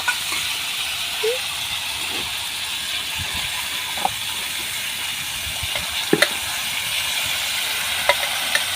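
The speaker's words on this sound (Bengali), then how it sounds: "ডালটা দিয়ে ভালো করে কষিয়ে নেব" Matar dal (split peas) frying in a pan while being stirred: a continuous sizzling hiss with scattered scraping ticks from the spoon, fairly loud and close, with no speech.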